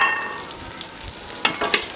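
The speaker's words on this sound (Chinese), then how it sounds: "豆豉下进去炒" Fermented black beans (douchi) stir-fry in hot oil in a wok, a close, bright steady sizzle with a few short scraping accents from stirring near the end.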